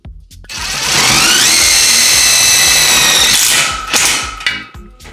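A power drill with a 10 mm socket drives a screw into a metal plasterboard rail for a shower niche, whining loudly and steadily for about three seconds, rising in pitch, then slowing with a few rattles and clunks.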